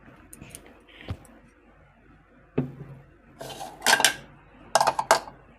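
A metal strainer is set onto a bowl with a few light clicks, then a sharper clatter and clinks of metal against dishware, close by.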